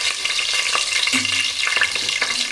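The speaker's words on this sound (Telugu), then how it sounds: "ఒక 4 లవంగాలు వేసుకుందాము, ఒక 4 మిరియాలు, ప్లస్ కాస్త ఒక 1 టేబుల్ స్పూన్ ఆఫ్ జీరా అనేది దీంట్లో వేసేసుకుందాం." Whole cloves, black peppercorns and cumin seeds frying in hot oil in a pan for donne mutton biryani, a constant bright sizzle with a few scraping stirs, close and loud, no voices.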